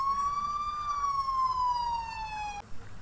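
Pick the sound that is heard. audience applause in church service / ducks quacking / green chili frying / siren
siren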